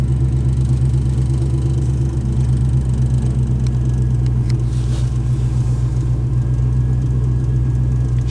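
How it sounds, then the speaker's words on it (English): A 1978 Pontiac Bonneville V8 idles loudly after sitting for a month, its muffler rotted almost completely off, giving a steady deep rumbling drone with a throbbing low-end pulse close by and no talking. "The muffler is rotted almost completely off this car because it's sat so long"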